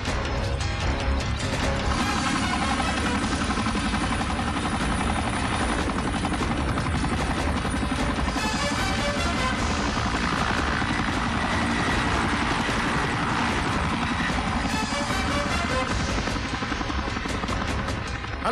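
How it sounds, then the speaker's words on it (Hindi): A helicopter flies close and loud, its rotor chopping in a steady, dense throb with mechanical whine over continuous engine roar throughout, no voices heard. "वो लड़का हमारे बेस से हेलीकॉप्टर लेकर उड़ गया है"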